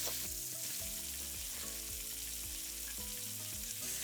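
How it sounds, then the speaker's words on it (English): Steady, loud sizzling of meat browning in a hot pan, a continuous crackling hiss with a low hum underneath and no voices. "And that is the sizzle that I want to hear."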